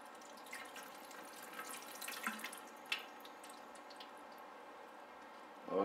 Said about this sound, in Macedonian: сега да видиме што ќе прави кога ќе истуриме вода врз неса